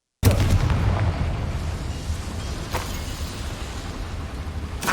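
A Confringo blasting spell from Hogwarts Legacy detonates at once as a loud, full-bodied boom, followed by a long rumbling decay and a couple of faint crackling pops later on.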